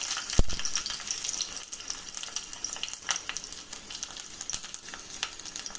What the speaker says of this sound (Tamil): நல்ல எண்ணெயில நல்லா பொரியுது